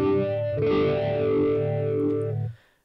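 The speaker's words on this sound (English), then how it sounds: "we got the biphase. Gives you two phase shift circuits connected in series" A Boss Katana MkII guitar amp plays a sustained chord through a biphase effect built from two series phase-shift circuits, with a swirling, almost wah-like sweep, loud and close, fading out at the end.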